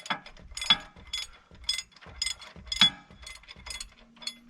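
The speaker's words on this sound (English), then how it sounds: "I have never in my life had to use wrenches this big." An oversized wrench ratchets a nut on an excavator track roller, giving a steady series of sharp close clicks in an even rhythm, loud and alone.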